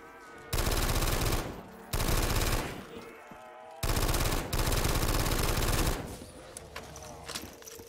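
Automatic weapon fire mowing down zombies in Black Ops 3 custom zombies, loud rapid bursts in several long stretches separated by short pauses, ending with quieter game sounds.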